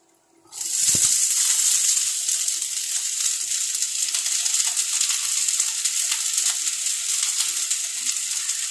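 Paneer and corn stirred in a frying pan: a loud, steady, close sizzle starts abruptly after a brief knock and runs continuously with faint scraping, no talk.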